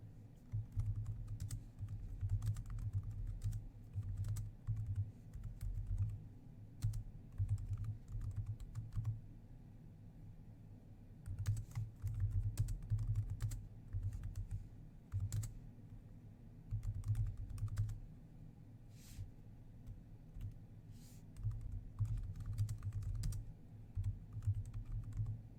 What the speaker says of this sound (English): type a message telling the individuals what you want them to do with the spreadsheet